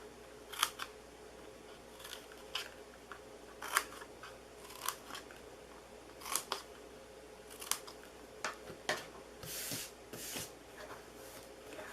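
Scissors snipping red card along score marks for a DIY dog house treat box, a run of short, crisp cuts in irregular bursts, close and fairly quiet, with no talking.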